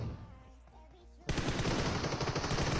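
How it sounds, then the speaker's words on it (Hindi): Gunfire in the mobile battle-royale game PUBG Mobile breaks out suddenly after a quiet stretch, then continues as dense, rapid, loud shots until the end. "यहाँ पे कोई स्नाइपर चला रहा है"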